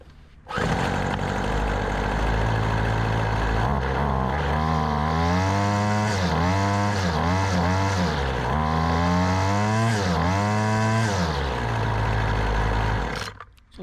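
A small carbureted engine fires up from a hot start and runs steadily for about thirteen seconds, loud and close, revving up and down several times with a slightly slow throttle response before cutting off.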